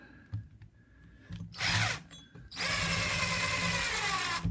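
A drill drives a waxed wood screw into a wooden rail or slat, first with a brief burst of whirring, then after a pause a steady, sustained run, loud and close with no talking.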